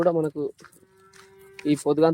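A dairy cow gives a faint, steady, low moo between bursts of a man's nearby speech.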